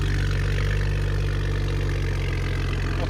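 A 2019-or-later BMW M340i 3.0L with a Valvetronic cat-back exhaust, valves open, rumbles at a steady idle, a loud, deep, even burble held close for the whole stretch.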